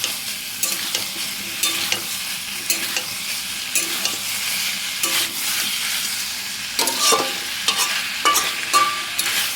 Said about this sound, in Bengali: আমি এখানে অনেকক্ষণ ধরেই নাড়াবো যাতে মিক্সটা না ধরে যায়